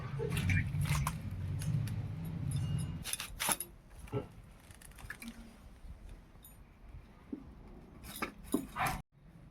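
A local elephant foot yam is cut into medium pieces with a knife, giving scattered, quiet chops and clicks at an uneven pace over a faint low hum.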